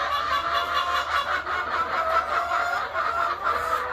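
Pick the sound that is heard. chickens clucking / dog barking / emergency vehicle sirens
chickens clucking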